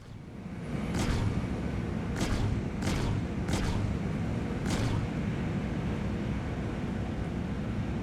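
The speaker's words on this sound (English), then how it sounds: "They're distortion cannons." Distortion cannons on an Aegis Vanguard Sentinel spacecraft in the video game Star Citizen fire several deep, booming blasts in an irregular series over a constant low rumble, with no talking.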